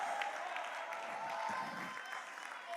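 A church congregation applauds during a service, sustained clapping from a large crowd that fills the room, with voices faintly mixed in.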